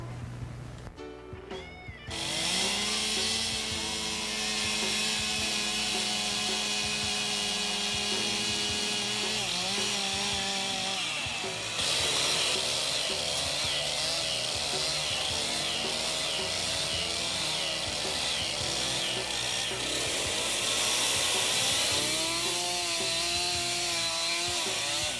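A chainsaw cuts log timber for building a log cabin, the engine droning loud and continuously with shifting pitch as the chain bites into the wood.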